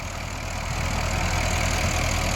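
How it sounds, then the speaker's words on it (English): A Porsche Cayenne Turbo S direct-injection engine, roughly 570 horsepower, idles steadily at close range with a slightly diesel-like clatter, and no voices. "But this is a very, very nice performing engine. Sounds a little diesel-y right now."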